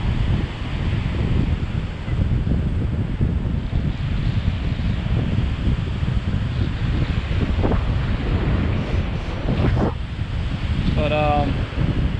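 Ocean waves break and wash on a Sint Maarten beach under strong, constant wind buffeting the microphone, with a brief voice near the end.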